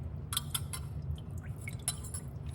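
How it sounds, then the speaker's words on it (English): Water is shaken out of a trumpet's small tuning slides in a few quick bursts of faint drips and light metallic clinks, heard close and quiet. "Shake the water out of them."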